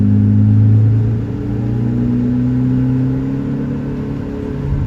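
Car engine in Euro Truck Simulator 2, a loud steady low drone with a gently shifting pitch as the revs ease back slightly, with no talk.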